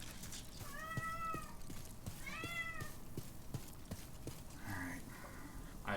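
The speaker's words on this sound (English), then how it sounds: "I can't tend to this cat. The cat is hungry." A hungry cat meows twice in drawn-out, rising calls over steady background noise from a Demon's Souls game, with faint hoof-like clopping and a few short chirps later.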